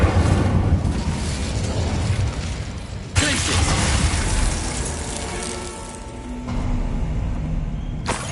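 An Incendio fire spell blast in the game Hogwarts Legacy, a sudden loud burst at about three seconds flaring into a roaring rush of flame amid steady game sound.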